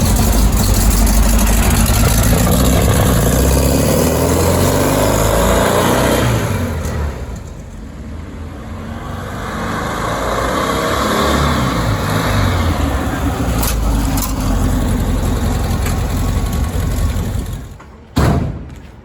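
A 24 Hours of LeMons race car drives around the block, its engine running loud and steady, dipping briefly midway, then building again as it accelerates, with a sharp thump near the end.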